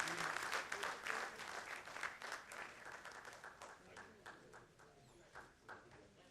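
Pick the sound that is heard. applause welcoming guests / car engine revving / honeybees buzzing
applause welcoming guests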